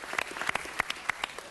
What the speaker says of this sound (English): big round of applause for our equestrians, for our horses